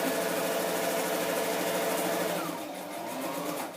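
A sewing machine stitches a line around a scrapbook page pocket: a steady, close mechanical whir with rapid rhythmic ticking that eases slightly near the end, with no voices.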